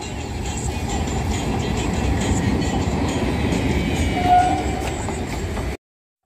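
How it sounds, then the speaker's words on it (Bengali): A train pulling into a station, with a steady low rumble of rolling carriages close by that holds level for most of the clip before cutting off abruptly. "ও সেই লেভেলে ট্রেনও ঢুকেছে।"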